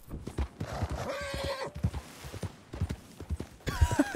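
Hooves clop in an uneven rhythm while a horse gives two loud whinnies, one in the middle and another at the very end, in the video game Red Dead Redemption 2.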